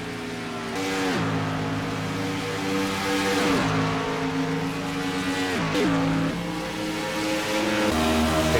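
Race cars at a Saturday night short-track race in Michigan diving hard into a turn, engines droning loud with repeated downshifts and pitch drops as they brake, then climbing again on exit, sustained and close throughout.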